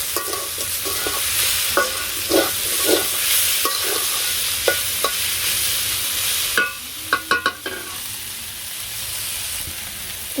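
Egg fries with sugar in a pan in a village kitchen under a constant sizzle, while a utensil stirs and scrapes in scattered clicks that bunch into a quick burst near the end.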